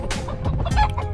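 A red junglefowl rooster outdoors gives a quick series of close, sharp clucks in a short burst.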